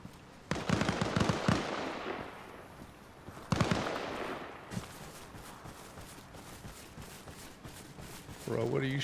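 Bursts of gunfire in a Jeep simulator video game, two loud volleys of rapid shots each trailing off into a fading echo, with scattered pops after and a voice talking over the action.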